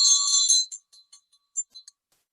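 A Tibetan Buddhist ritual bell, the sino, rung with its dorje: a bright, high shimmering ring that sustains briefly, then fades into a few faint scattered taps and near-silence.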